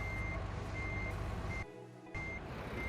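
Steady reversing beeps from a bus in Euro Truck Simulator 2, repeating at an even rhythm over a constant engine hum, briefly cut out midway, with no talking.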